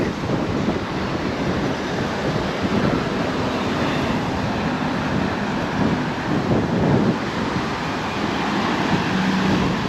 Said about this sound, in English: whoa, it's getting breezy